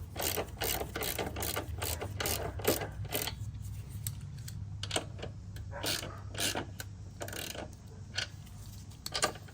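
A 16mm socket wrench ratchets while tightening a bolt on a Razor E200/E300 electric scooter's rear suspension and swing arm, rapid clicking strokes in bursts with brief pauses, close and clear.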